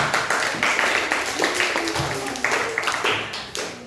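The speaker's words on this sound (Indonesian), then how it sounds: "Nah, tepuk tangannya nak." Children clap their hands together in a classroom, a lively, slightly uneven burst of clapping that runs throughout at close range, with some voices mixed in.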